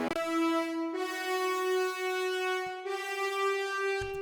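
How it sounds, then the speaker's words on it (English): Sustained notes from layered French horns with a rich, buzzy tone, held steady and then restated after a short break. "So if we take French horns"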